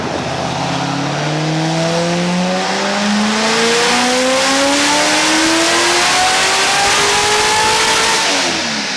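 Supercharged C6 Corvette Grand Sport engine accelerating hard in a long, loud pull, pitch climbing steadily through the gears, close and with no talk.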